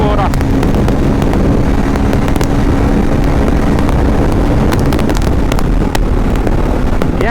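A Bajaj Pulsar N250 motorcycle running near 140 at top speed, a continuous loud engine drone buried in heavy wind rush for the whole stretch, with a rider talking over it.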